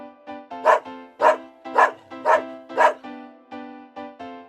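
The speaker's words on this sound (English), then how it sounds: "dog," A dog barks repeatedly, about seven or eight sharp, close barks in a fairly steady rhythm, alone with no other sound, the middle ones loudest.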